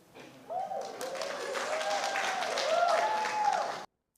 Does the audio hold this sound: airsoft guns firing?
no